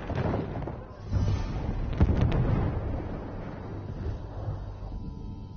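A grenade blast in Battlefield 1 lands as a rumbling boom amid continuous battlefield noise, with a sharp burst near the two-second mark over a dense low roar.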